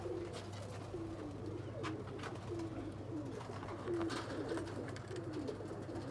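Pigeons, including Rampuri and Sialkoti breeds, coo steadily in a loft, with soft repeated calls close by and no talk over them.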